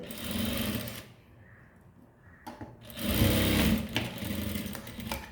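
A sewing machine stitches a blouse seam in two bursts, whirring loudly, stopping for a quiet pause, then running again up close.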